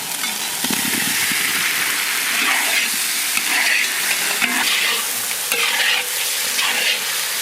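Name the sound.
fried potato added and stirred in pan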